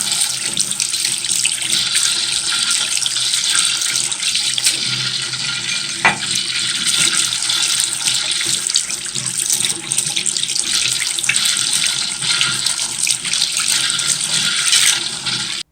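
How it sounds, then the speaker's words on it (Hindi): Makeup brushes being washed under a running tap, a loud continuous splash and rush of water that holds steady throughout, close by. "ब्रश वगैरह मैंने धो लिए, सारे स्पंज वगैरह सब चीज़ें धो ली हैं"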